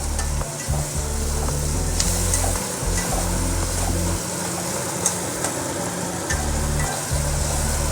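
Curry leaves stirred into onion-tomato masala frying in a pan for squid thokku, with a loud steady sizzle, repeated spoon scrapes, and a low rumbling hum underneath.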